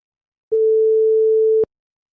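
A single steady telephone tone sounds for about a second, clean and loud, during an unanswered outgoing sales call.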